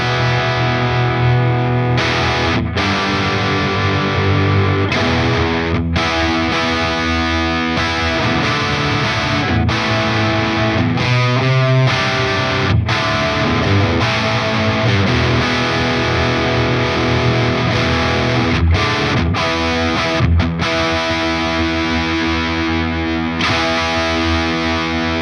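An electric guitar played through a Friedman IR-X twin-channel high-voltage valve preamp with impulse responses, a loud, saturated distorted tone ringing out in sustained chords and riffs with brief breaks, no talking.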